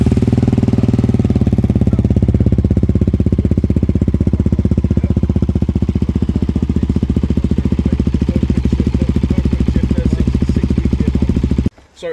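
A motorcycle idles with a Euro 5 Scorpion aftermarket exhaust whose baffle has been removed, a loud, steady, rapid low-pitched throb that runs unbroken for about twelve seconds and then cuts off abruptly.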